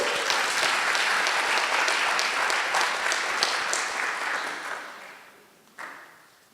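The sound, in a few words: applause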